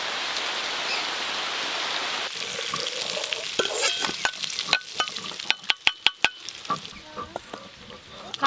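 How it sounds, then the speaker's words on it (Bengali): Catla fish fat frying with salt in a wok, a steady hiss that turns into crackling sizzle, then sharp popping spatters growing louder and more frequent toward the end, close by with no voices. "কাতলা মাছের তেল, লবণ, কড়াই দেওয়ার সাথে সাথেই তেল ভরে যাচ্ছে"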